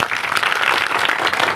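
A loud, thick roar of clapping comes from a large crowd at a Bhim Army rally. It is close and sustained for a moment, with no voices on top.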